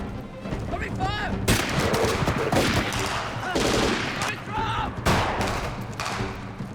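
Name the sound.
machine-gun covering fire on a film set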